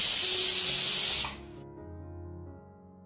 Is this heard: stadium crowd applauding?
no